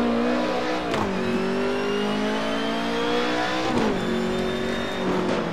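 Race car engine in the Assetto Corsa driving game revving high and steady, dropping pitch briefly at each gear change around one and four seconds, loud and continuous with no talking.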